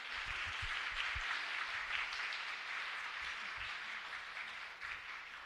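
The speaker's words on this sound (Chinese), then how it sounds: "我们给他们一个掌声" Church congregation applauding a student youth ministry team during a Sunday worship service, a steady wash of many hands clapping at moderate distance, sustained evenly throughout with no voices over it.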